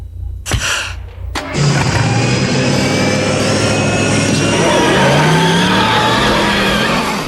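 The DeLorean from the 1991–1993 Back to the Future animated series roars off after two sharp bursts, a loud sustained engine whine with tire screech that rises and holds.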